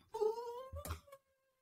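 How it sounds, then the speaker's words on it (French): A single cat meows once, close and clear, a drawn-out rising call that ends abruptly into silence. "Il y a un chat?"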